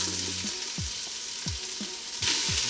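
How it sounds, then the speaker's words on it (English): Onions, ginger and garlic sauté in hot oil in a stock pot, giving a steady close sizzle. Several soft stirring bumps repeat through it, and the frying swells louder toward the end. "we'll just want to saute these until they're fully translucent"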